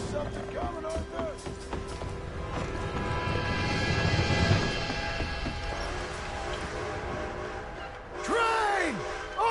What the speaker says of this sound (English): Train!